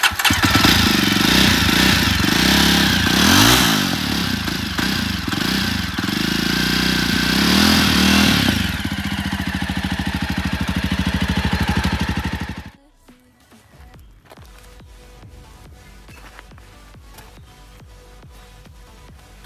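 A 2022 Jawa Perak bobber motorcycle engine starts and runs loud and close with a throbbing single-cylinder rhythm for about twelve seconds, then abruptly cuts out, leaving faint background sound.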